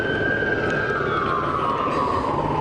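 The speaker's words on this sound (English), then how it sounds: "This is the second ambulance that we're seeing drive away with their lights and sirens on here from the Auburn High School parking lot." An ambulance leaving the Auburn High School parking lot in Rockford wails with a loud, continuous siren whose pitch slowly falls as it pulls away over steady engine and traffic rumble.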